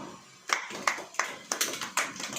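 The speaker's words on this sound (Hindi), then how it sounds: "ताली बजाओ।" A church congregation claps in a loose, uneven rhythm, a handful of distinct sharp claps spaced roughly a third of a second apart, fairly close and moderate in volume.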